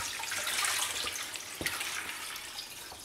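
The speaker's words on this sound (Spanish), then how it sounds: "Y luego vamos a cubrirlo con el agua." Water is poured into a pot of corn cobs, a steady hissing splash and trickle at moderate closeness, with a brief knock partway through, tapering slightly toward the end.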